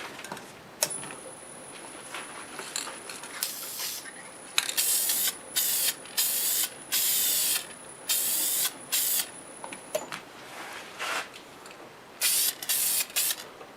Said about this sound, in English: I'll spray some on the inside